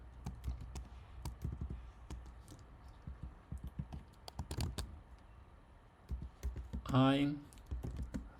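Computer keyboard typing while writing Python code, soft irregular key clicks at moderate distance, with a brief spoken word partway through.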